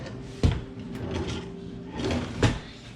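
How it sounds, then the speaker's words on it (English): A kitchen junk drawer slides open with a sharp knock, a rolling rattle of loose contents, then another thump, close and fairly loud, with no speech. "Let me look at my junk drawer."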